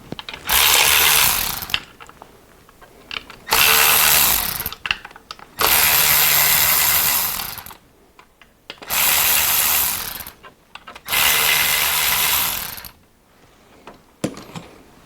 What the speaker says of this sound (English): So we're gonna remove the intake manifold nuts first.